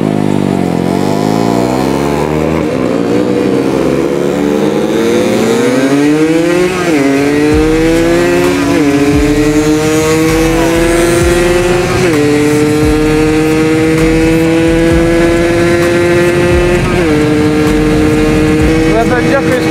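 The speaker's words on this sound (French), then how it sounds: "On va pas me dire que les scooters avancent mieux que les motos" Engines rev and rise in pitch as scooters and motorbikes accelerate through several gear changes, loud and close, with voices under the roar.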